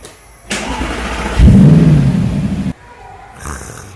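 An Audi R8 V10 engine cranks and fires with a deep, loud roar, holds a throbbing idle for over a second, then cuts off abruptly, with faint voices afterward.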